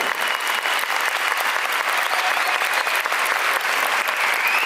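An audience at a zero waste summit in Istanbul bursts into loud, continuous applause, dense clapping sustained evenly throughout with a slight crowd murmur.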